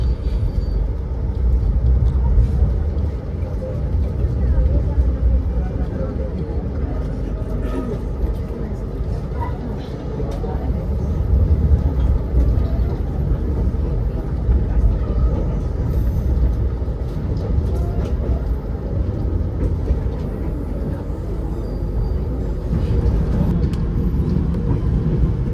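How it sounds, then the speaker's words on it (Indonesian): Passenger train pulling away from a station on the Bandung–Jakarta line after crossing another train, a steady low rumble of wheels and engine with faint clatter, continuous and fairly loud throughout. "Berangkat kembali dari stasiun Maswati setelah bersilang dengan kereta api Papandayan."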